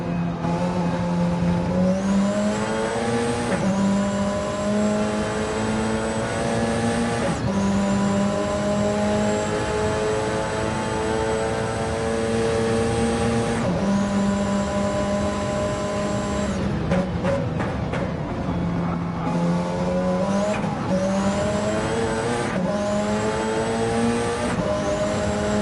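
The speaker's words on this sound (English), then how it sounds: "So Pickles chasing Zoe down here, lap 9" Group 1 race cars lapping Autopolis circuit in a sim racing event, with a steady loud engine drone, upshifts stepping the pitch up repeatedly and short downshift blips into corners, heard continuously from onboard without talk.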